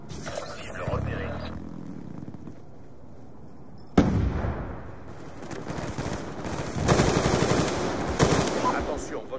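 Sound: auto turret machine gun fire in Black Ops 2 video game

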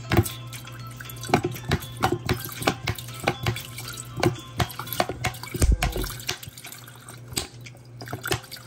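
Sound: pouring lemon juice into a kettle

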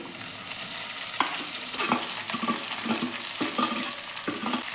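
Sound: chopped okra added to hot pan, sizzling

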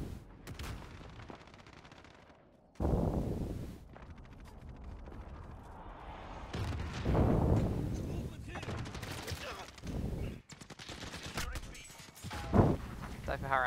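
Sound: AK-47 gunfire in Call of Duty video game

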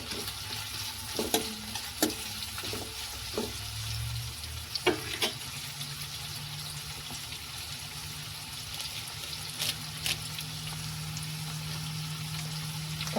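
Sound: green chillies sizzling in tempering oil

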